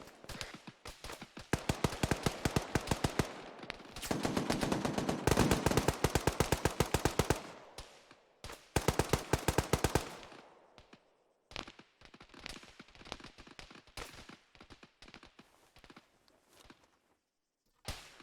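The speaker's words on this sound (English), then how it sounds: "Red team is taking accurate enemy fire." Automatic gunfire in a military shooter game rattles out in long rapid bursts, loud and close, then breaks into shorter scattered volleys and single shots separated by pauses.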